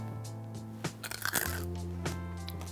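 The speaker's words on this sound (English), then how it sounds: "It crunches so hard, I'm almost going deaf." A bite into glassy, crisp roast piglet skin gives a sharp crunch with a few crackling bursts close to the mic, over a steady background hum.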